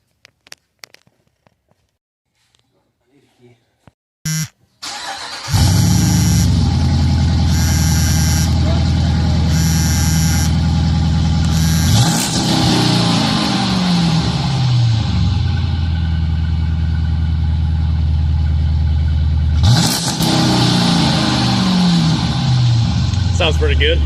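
A 2011-or-later Dodge Durango engine with a Pypes Bomb exhaust starts after a few faint clicks, then idles loud and deep and revs up repeatedly in rising surges, with people talking at times.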